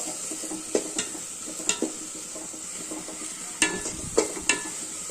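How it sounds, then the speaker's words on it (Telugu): A spoon scrapes and knocks against a frying pan as chili powder is stirred into frying beef and potato curry. Intermittent sharp clinks sound over a steady sizzle, close and fairly loud, without speech. "ఇలా బాగా కలుపుకోవాలి. కారం పచ్చి వాసన పోయేదాకా."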